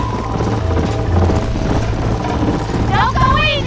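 Horse hooves gallop in a rhythmic clip-clop in Red Dead Redemption, loud and close, mixed with game audio and voices talking.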